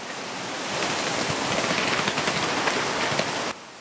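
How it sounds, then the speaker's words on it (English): Steady, roaring wind buffets the microphone outdoors in a garden in a dense rush of noise for several seconds, then drops off abruptly near the end. "You can see it's quite windy."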